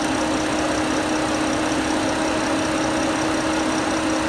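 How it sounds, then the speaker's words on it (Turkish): An air conditioner's fan drones loudly and steadily while refrigerant gas is charged, a continuous close mechanical hum with a constant tonal whine and no pauses. "Bakın pervanenin sesi de yükseliyor. Gaz bastıkça."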